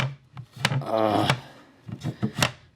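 Old wooden drawer rattling and scraping as it is handled and falls apart, with a long grinding rub in the middle between sharper knocks and clunks.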